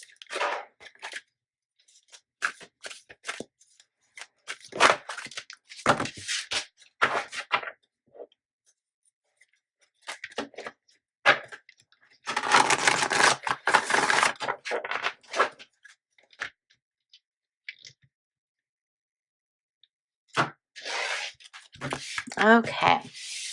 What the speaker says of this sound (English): I'll shuffle these up a little bit more.